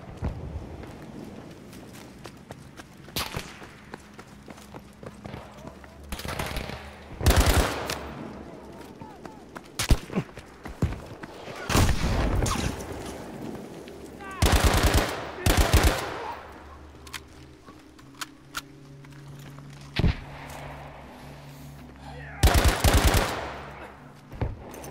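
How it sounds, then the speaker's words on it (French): Battlefield V combat in 1944 Provence: scattered machine-gun bursts and single gunshots crack out at irregular intervals, some loud and close, others distant, with talk between them. "Ils ont tiré sur la propre position"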